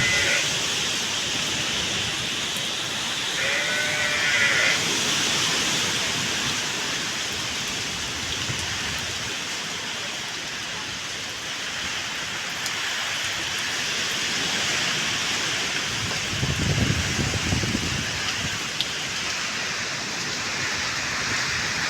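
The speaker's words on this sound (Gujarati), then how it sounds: "ભારે વરસાદ અને ભારે પવન સાથે" Heavy rain and strong wind sweep over a tree-filled garden at an ashram in Gondal, a dense, steady roar of falling water that swells briefly in places and continues throughout.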